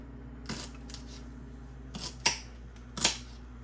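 A knife cuts through fresh sage for a vegetable soup, giving a few sharp, close snips and taps on a board with quiet pauses between them.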